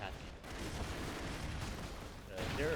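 Gunfire and explosions from the side-scrolling action game Broforce on a tower level play as a dense, continuous barrage of booms and shots, fairly loud and steady throughout, with a louder burst near the end.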